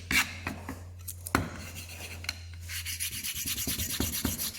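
A sanding board rubs rough edges off a small domed metal piece shaped in a doming block, with soft, irregular scraping strokes that quicken into a faster rhythmic rasp toward the end.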